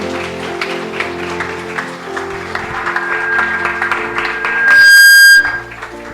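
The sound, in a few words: applause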